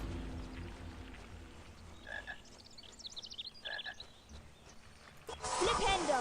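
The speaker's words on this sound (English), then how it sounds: "Why can I hear a frog?" A frog croaks in the Harry Potter and the Philosopher's Stone PC game, two short throaty croaks spaced a couple of seconds apart over quiet game ambience, followed by a burst of louder noise.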